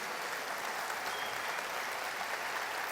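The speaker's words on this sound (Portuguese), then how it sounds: "Pode aplaudir Jesus" A church congregation applauds for Jesus during a worship service, a steady, dense wash of clapping that holds evenly for the whole stretch with no voices breaking through.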